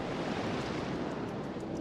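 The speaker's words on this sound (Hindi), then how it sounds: "समुद्र का एक ऐसा तूफानी हिस्सा है जो कि टैस्मानिया और ऑस्ट्रेलिया के बीच में पड़ता है" Stormy sea between Tasmania and mainland Australia roars as a continuous dense wash of surf and wind, steady and fairly loud with no voices.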